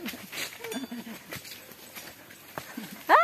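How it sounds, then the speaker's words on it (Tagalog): Horse hooves clip-clop on a mountain path, fairly faint and irregular, with a short vocal sound rising at the end. "baka daanan ako ng kalabaw, kabayo"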